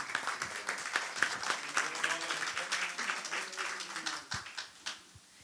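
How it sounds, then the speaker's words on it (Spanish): An audience at an academic psychology and humanities conference applauds a speaker, a moderately loud burst of clapping that gradually thins out and tapers off over several seconds. "Les pido por favor un fuerte aplauso para Avelino Sordo."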